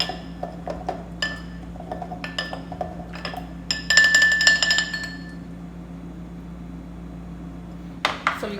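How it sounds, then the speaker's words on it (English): Ice cubes drop and clink into a drinking glass as a rum and soda is mixed on a road trip in Panama. Sharp, bright tinkles are scattered over a few seconds, with a denser rattle in the middle, over a steady fan-like hum. "Fill your glass with ice."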